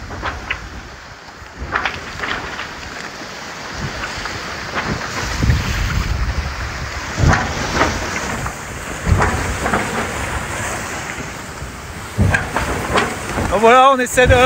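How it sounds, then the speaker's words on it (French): Strong wind roars and waves slosh and crash around a racing sailboat in the Indian Ocean, with someone speaking over the steady buffeting. "La mer est bien agitée parce que le vent forcit"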